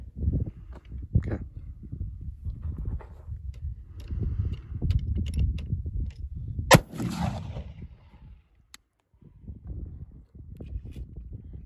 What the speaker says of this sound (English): I loaded and fired that over and over again, and here's what happened. Chain fire test one.